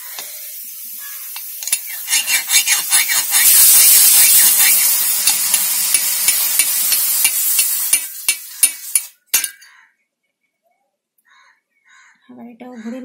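Food stirred in a hot frying pan, with a steady sizzle and repeated scraping strokes of a spatula close by, ending in a few separate clinks before the sound cuts out.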